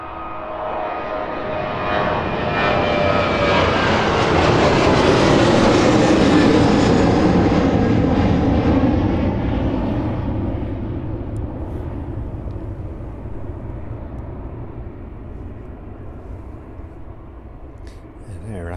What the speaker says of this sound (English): Takeoff from the 737.